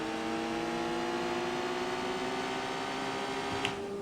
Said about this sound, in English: Man, this car revs quite a bit.